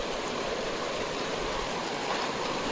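Fast river water rushes steadily over and around stones, a dense, continuous close roar of flowing current with no pauses and no voices.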